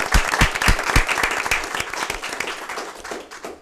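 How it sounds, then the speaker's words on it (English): A town council meeting audience breaks into applause, a dense patter of many hands clapping with some sharper claps up close, steady at first and tapering off toward the end. "let's give them a round of applause."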